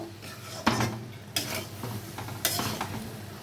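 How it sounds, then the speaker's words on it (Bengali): A spoon scrapes and clinks against the pot while stirring a vegetarian bottle gourd ghonto with moong dal bori and a spoonful of ghee, giving several sharp strokes over a light sizzle, close and unaccompanied by speech. "এখন আমি সবগুলোকে খুব ভালো করে মিশিয়ে নেব"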